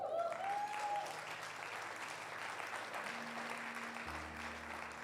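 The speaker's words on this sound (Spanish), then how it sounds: "¿Por qué no le das un aplauso al Señor?" A church congregation at Iglesia Casa in Cuernavaca applauds the Lord during a sermon, a sustained, even wash of clapping that stays moderately quiet and distant, with a brief tone at the start and a low hum beneath.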